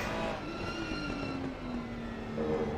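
Ferrari and Porsche GT3 race cars in a sim racing game at Barcelona, engines droning steadily with rising and falling pitch as they run close together, loud and continuous.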